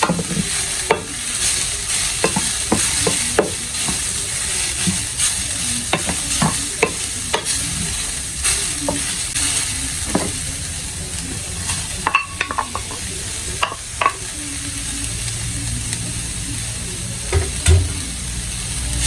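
Carrots stir-fried in a pan for a samosa and spring-roll filling, with a steady close sizzle broken by repeated scraping and clacking stirring strokes throughout.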